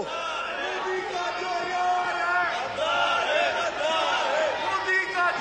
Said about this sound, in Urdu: نعرے بازی نہ کریں بالکل